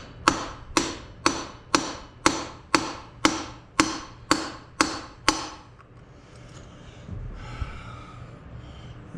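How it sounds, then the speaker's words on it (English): Hammer blows strike a Dana 44 axle to drive out its seals, about ten sharp, evenly spaced metallic hits in quick rhythm, followed by a few seconds of quieter shuffling and handling. "Hammer action going"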